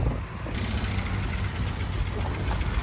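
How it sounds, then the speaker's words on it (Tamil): A car engine idles as the car begins to pull away, a steady low rumble that stays close and fairly loud, heard outdoors at a used car lot with broadband road noise and no clear speech. "இந்த வண்டி கூட கிளம்புது"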